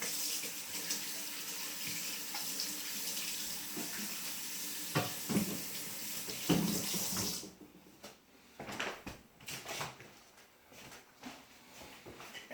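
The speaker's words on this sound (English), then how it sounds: "Once again, I'll wash my hands off." Running tap water splashes steadily over hands at a kitchen sink for about seven seconds, then the flow stops and a few wet rubbing and dripping sounds follow, close and alone without speech.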